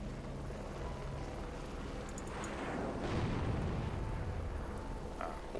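Attack helicopter in the combat flight game Heliborne firing rockets, a steady rotor and engine drone with a swelling burst of launches and distant blasts midway, loud and continuous with no talk.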